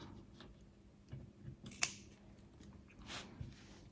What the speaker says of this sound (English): where the rope sticks out too far, to just cut it off